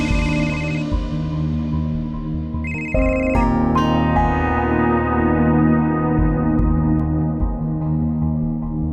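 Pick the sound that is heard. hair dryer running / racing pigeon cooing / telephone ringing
telephone ringing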